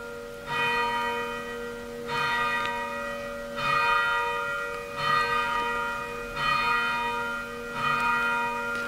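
Church bells ring in a slow, steady peal, each stroke swelling and decaying with a sustained hum between, about six strikes spread evenly, moderately loud and alone without voices.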